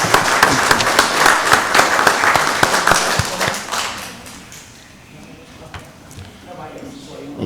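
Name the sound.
meeting audience applause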